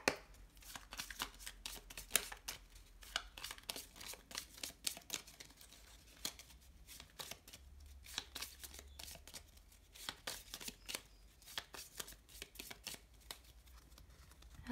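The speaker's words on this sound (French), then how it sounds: "C'est pas évident, ces petites cartes-là à mélanger" Small shamanic oracle cards being shuffled by hand, a quiet, continuous run of rapid papery riffles and flicks, close and faint with no talking.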